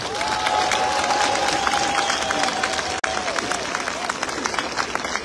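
An outdoor crowd at a large public protest in Riga, Latvia, applauds and cheers in a steady, dense roar of clapping, with a drawn-out whistle rising above it early on.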